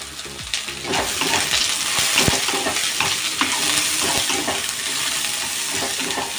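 Onion sautéing in a pan for papaitan fills the space with a constant loud sizzle, broken by repeated scraping and clinking strokes of stirring, and nobody speaks.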